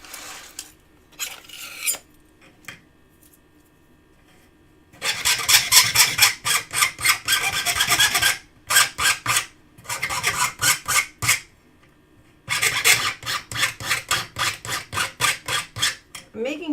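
Hand metal file rasping across a thin trimmed metal piece, with repeated rhythmic bursts of back-and-forth strokes separated by pauses, close and fairly loud, with faint talk in the early quiet stretch.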